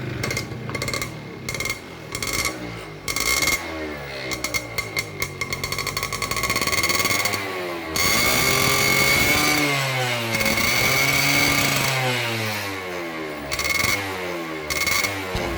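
Yamaha F1ZR two-stroke motorcycle with a wet spark plug and a smoky exhaust, started and left running: a buzzing, uneven engine idle with repeated throttle blips and revs rising and falling, loud and close, alone.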